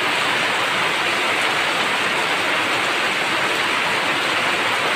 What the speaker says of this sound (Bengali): মুষলধারে বৃষ্টি পড়ছে